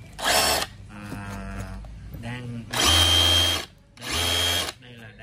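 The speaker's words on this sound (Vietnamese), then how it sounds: "đây là đang khoan tường" A DeWalt 273 SDS rotary hammer drills into a wall in three loud bursts, each a few tenths of a second to nearly a second long, with quieter handling noise between them.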